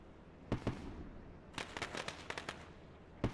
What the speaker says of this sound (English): Nice fireworks going off overhead.